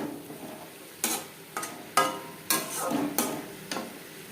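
Steamed cauliflower goes into a pan of frying spices for a vegetarian curry, giving a run of sharp, separate clatters and scrapes at irregular intervals over a low, faint sizzle.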